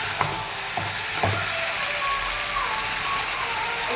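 Bhola fish curry sizzles in a pan as a continuous close crackle, with a few soft scraping knocks early on and a faint distant beeping in the background.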